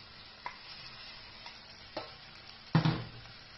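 Bagoong hits pakbet vegetables in a hot pan, giving a continuous sizzle with a few soft utensil taps and a louder burst of frying near the end.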